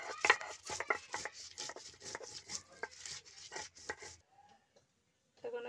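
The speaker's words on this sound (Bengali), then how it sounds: "এখন আমি একটু কাঁচা লঙ্কা আর পেঁয়াজ বেটে নেব।" Green chillies and onion being ground by hand on a stone grinding slab in a rustic kitchen: rapid rhythmic scraping and rubbing strokes for about four seconds, then a pause before the scraping resumes briefly.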